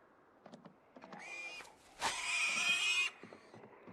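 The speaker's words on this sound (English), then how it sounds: "Don't like your screams, pig." Pig in the Project Zomboid survival game letting out shrill, harsh squeals, a short one and then a longer piercing scream, with faint thumps and shuffles around them.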